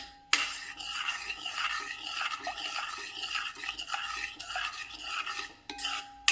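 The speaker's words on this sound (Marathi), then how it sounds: "तिखट बस जरा हलवून कलर चेक कर" A spoon scrapes and stirs a chili powder mixture in a pan with a continuous rubbing rhythm that is fairly close and moderately loud, and no voices are heard.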